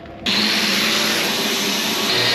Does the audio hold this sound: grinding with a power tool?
yes